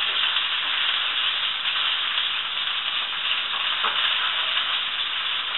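Vegetables fry in the same oil used for the chicken in a paella pan, a steady, loud, close sizzle with no pauses or voices.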